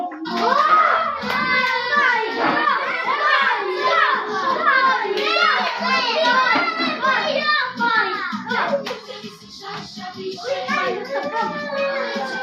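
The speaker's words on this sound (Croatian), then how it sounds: "Aplauz za Iskru!" A group of children claps during a musical chairs game, the applause mixed with loud excited children's voices and chatter nearby.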